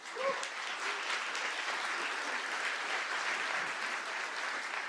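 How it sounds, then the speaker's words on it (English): Steady, dense applause from a keynote audience at a tech summit, continuous clapping at an even level throughout with no talking over it. "big round of applause to my team"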